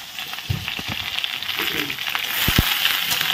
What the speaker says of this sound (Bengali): লবণ দিয়ে ভালো করে নেড়ে চেড়ে নেওয়া হলো।